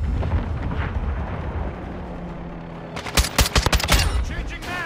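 A claymore blast in Call of Duty: Modern Warfare II's Shoot House map: steady game rumble, then a cluster of sharp, loud detonation cracks mixed with gunfire toward the end.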